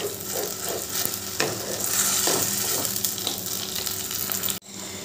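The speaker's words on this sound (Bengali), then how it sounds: "ওই তেলের মধ্যে দিয়ে দিচ্ছি পেস্ট করে রাখা বাঁধাকপি।" Cabbage paste fries in hot oil while being stirred, giving a loud, dense sizzle with rhythmic scraping strokes of a spoon against the pan, close up, ending abruptly near the end.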